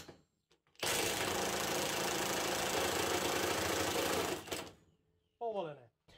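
A Milwaukee M18 ONE FHIWF12 cordless impact wrench on a 2 Ah battery hammers loose an M22 bolt, a loud continuous rattling burst of about four seconds, then a brief voice afterward.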